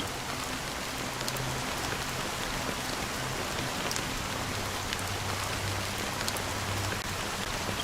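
Steady rain falls in a dense, even hiss of drops that continues unbroken and fairly loud throughout, with no voices.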